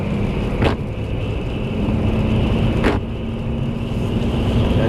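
A Ferrari 575 Maranello's engine runs steadily with a continuous hum and road noise, broken by two brief sharp transients, without anyone talking.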